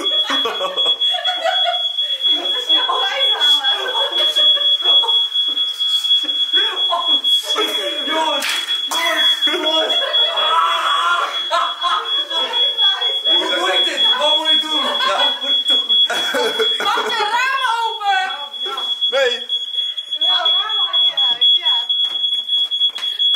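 A smoke alarm goes off in a house, a loud continuous high-pitched electronic beep sounding for the whole stretch while several people talk and laugh over it.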